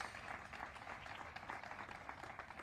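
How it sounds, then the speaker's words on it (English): Faint audience applause at a groundbreaking ceremony for a health and human services center in Milwaukee, a steady wash of distant clapping throughout with no speech. "Give yourself a round of applause."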